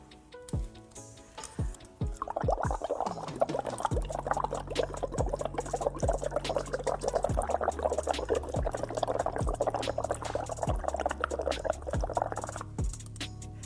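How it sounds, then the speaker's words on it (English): Air blown into a container of water makes a dense, steady bubbling and gurgling that lasts about ten seconds, close and loud, preceded by a few light ticks and taps. "what happens when you simply blow a little bit of air into the water?"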